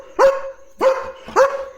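Three sharp, evenly spaced barks from a German Shepherd dog named Leo ring out close by, each one loud and short, with no talking around them.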